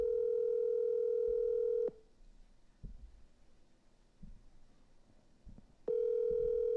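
Steady telephone dial tone heard during a call, loud and continuous at the start, cutting out near two seconds to leave quiet room noise with faint knocks, then returning just as strongly for the last second.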